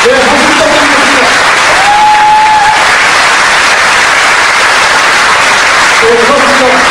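Sustained, loud applause from a big audience at a Korean political party's founding convention, steady clapping filling the hall with a faint voice or tone briefly rising above it.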